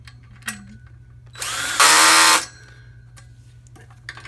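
A powered socket driver tightens a bolt on a Pop-A-Shot Dual Shot arcade basketball frame, giving one short, loud whirring burst of about a second over a quiet room hum, preceded and followed by faint clicks.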